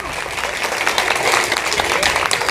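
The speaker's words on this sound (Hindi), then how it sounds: "जरा एक जोरदार ताली हो जाए, पिंक क्लब।" Loud, sustained applause from a crowd at a school event in the village of Lakhaura, launching a girls' Pink Club. Dense clapping fills the whole moment, with faint voices mixed in.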